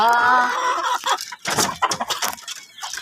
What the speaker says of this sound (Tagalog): daming sisiw. Kanina pa to nanhihingi.